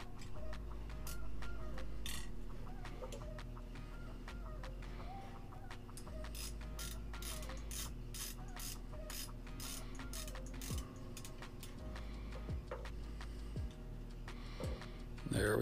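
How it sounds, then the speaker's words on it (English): A 7/16 wrench and socket ratchet tightening a nut on metal climbing sticks, a close, quiet run of rapid clicking strokes in repeated bursts over a low steady hum, with occasional knocks. "you're going to need your 7/16 wrench on that top one"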